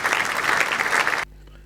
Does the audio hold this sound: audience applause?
yes